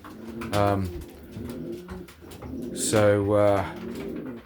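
Racing pigeons coo inside a loft, with two rolling, throaty coos, one near the start and a longer one later. Softer bird noises and background voices can be heard between them.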